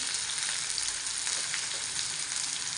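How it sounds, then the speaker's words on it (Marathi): Flat beans (ghevda) fry in a pan for a village-style vegetable dish, with a dense, steady close-up sizzle that holds without a break. No one speaks. "आता घेवडा चांगला फ्राई झाला"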